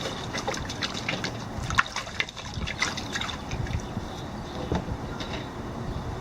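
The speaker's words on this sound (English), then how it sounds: "Sift it through the classifier into the pan, so everything that's going through it is minus 20." Gold dredge cleanup concentrate sifted through a minus-20 classifier screen into a pan, giving a steady gritty rattle and watery trickle with scattered small clicks, close and continuous throughout.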